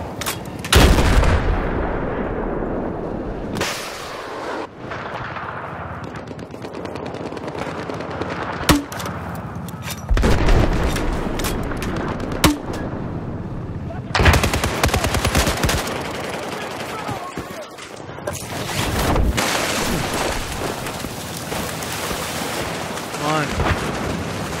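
Heavy gunfire and booming cannon-like shots in the video game Battlefield 4, Conquest mode on the Flood Zone map, sounding as loud repeated bursts and blasts throughout with brief quieter gaps, while a player talks over the action.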